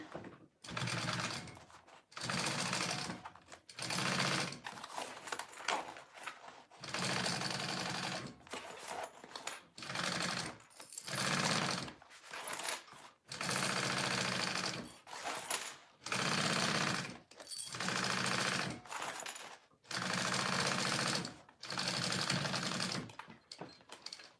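Sewing machine basting the clipped pieces of a mini backpack together, running in repeated bursts of a few seconds each separated by short pauses, loud and close with no talking.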